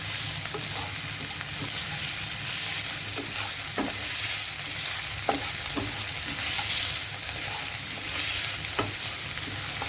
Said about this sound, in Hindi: अब हम पहले डालेंगे प्याज और उसे मिक्स करके